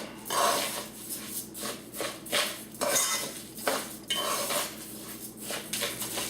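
White rice fries and crackles in hot oil while a utensil scrapes and stirs against the pan in repeated strokes, fairly close and moderately quiet.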